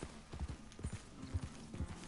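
A horse's hooves clip-clop down a steep mountain slope in Red Dead Redemption 2, with four evenly spaced, soft, close thuds in a steady walking rhythm over a quiet background.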